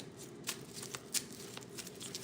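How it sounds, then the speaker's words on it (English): Tarot cards are shuffled by hand, producing soft riffling and several sharp card snaps scattered across a steady papery rustle, close and fairly quiet, with no one speaking. "I want you guys to see me shuffle."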